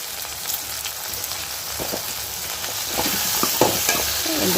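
Okra sautéing in a hot pan, with a steady sizzle under repeated stirring scrapes and light clacks that build slightly toward the end; no one speaks.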